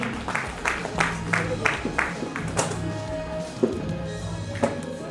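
Scattered applause at the Second Natyashwor music award: uneven bursts of clapping from a crowd, with a voice speaking over them.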